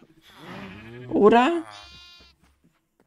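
A Minecraft sheep lets out a wavering bleat in the middle, tangled with a voice speaking German as he goes to shear the flock.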